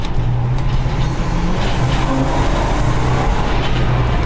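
A work van fitted with a brand new engine driving out on the road, a loud continuous engine drone and road rumble heard from inside, steady without breaks.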